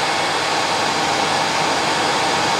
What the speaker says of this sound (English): I'm going to give it a wee blow with the hairdryer.